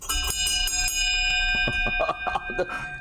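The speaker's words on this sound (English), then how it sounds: "The only thing I play is the bell." A bell rings repeatedly, with bright sustained metallic tones and several clear strikes close to the microphone, ringing on by itself with no talk over it.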